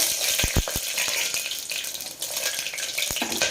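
Cumin seeds with cinnamon, cloves and shahi jeera frying in hot oil for a bottle gourd curry, a bright crackling sizzle with several sharp pops and spatters near the start and another toward the end.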